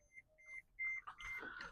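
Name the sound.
incessant beeping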